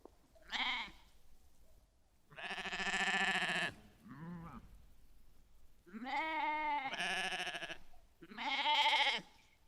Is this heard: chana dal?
no